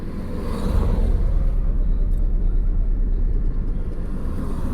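A car's engine rumbles low and steady up close as it is eased over to the roadside, a continuous deep drone with no clear change in pace.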